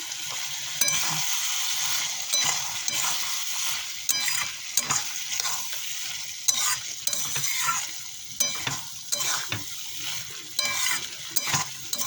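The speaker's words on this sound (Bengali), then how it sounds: "একটু এটাকে একটু মশলাটাকে একটু কষায় নেব" Spice masala with chili powder sautéing in a hot pan, a continuous dense sizzle with repeated scraping and clinking of a spatula stirring throughout.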